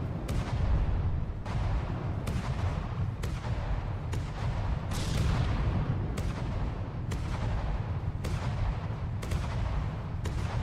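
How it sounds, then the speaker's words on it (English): Cannon in From The Depths naval combat game firing paired shells at once, a steady run of heavy booming shots every second or so over a continuous low rumble, with no talk. "it's still firing 2 shells at the same time every time we shoot."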